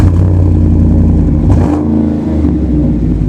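SCA Performance GMC G2 off-road truck with custom stainless steel dual performance exhaust, revving loudly and steadily up close, with a brief dip in the engine note midway and no voices.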